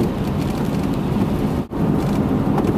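Steady rain hisses against a car moving on a freeway along with road noise, broken by a brief dip near the end.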